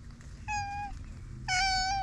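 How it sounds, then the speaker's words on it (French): A cat meows twice up close, the second call louder and longer, over a low steady rumble. "Il y a un chat"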